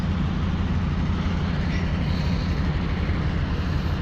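A Komatsu PC350 excavator's Cummins 6D114 diesel engine runs during a test after injector replacement, giving a steady, loud, low rumbling drone with no break.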